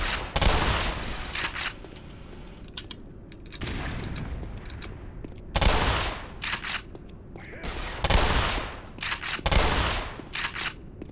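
Weapon fire in the video game Black Mesa, repeated loud bursts of shots spaced a second or two apart, each a dense crackling volley that fades quickly before the next.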